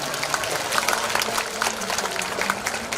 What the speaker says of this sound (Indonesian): Tepuk tangan untuk Kabupaten Kendal.